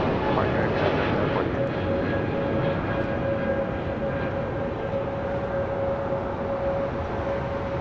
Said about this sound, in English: It's an Airbus A220 300 taking off with Air Canada.